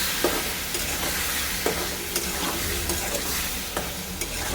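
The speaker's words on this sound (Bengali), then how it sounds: "এবার এটা আমি কষিয়ে নিচ্ছি" Tomato and green chili masala with turmeric and salt stir-frying for a catla fish curry, a continuous crackling sizzle punctuated by occasional sharp scrapes of a spatula in the pan, close and unaccompanied by speech.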